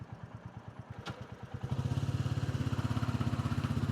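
A Royal Enfield Bullet 350 single-cylinder motorcycle idles at a red light in Singapore, a close, steady thumping pulse that grows louder and quicker partway through, running alone with no talk.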